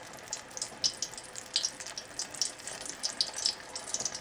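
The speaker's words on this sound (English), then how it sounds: "I'm going to take a spoon and I'm just going to drop doubles in there" Doubles dough spooned into hot oil at about 350 degrees, crackling bubbly frying with sharp pops and spits, fairly quiet and close, no voices.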